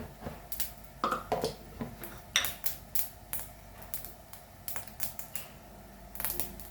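Whole cumin and mustard seeds sputter and pop in hot oil for a Goan doyee paneer bhaji: scattered sharp crackles and snaps at an irregular pace, close by, with no talking.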